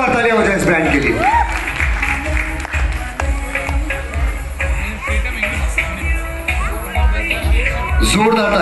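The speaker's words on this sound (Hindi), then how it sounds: "अभी एक बार जोरदार तालियां हो जाए इस ब्रांड के लिए" A hall audience at a brand award ceremony in Sagwara breaks into loud, sustained applause, dense clapping and crowd hubbub running throughout while an amplified voice talks over it.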